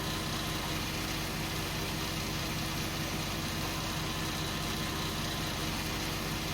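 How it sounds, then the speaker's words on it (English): A diesel Ram truck with a Cummins engine idles in Farming Simulator 19, a constant low mechanical drone with an even, unbroken hum throughout. "But it's got a diesel engine."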